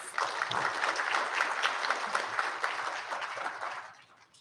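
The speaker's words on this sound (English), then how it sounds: "Please give them a round of applause." Audience applause for spelling bee contestants at a district elementary school spelling bee: a dense, steady wash of many hands clapping that holds for about four seconds, then tapers off.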